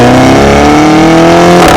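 Loud, close engine and exhaust note from a 2016 MINI 5-door Carbon Edition, a steady rising rev with strong harmonic tone, heard alone with no talk.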